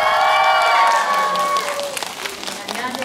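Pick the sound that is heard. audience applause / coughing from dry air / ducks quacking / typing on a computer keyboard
audience applause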